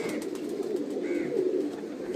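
Soft, low cooing of pigeons repeats over a steady rumbling background, fairly close and gentle.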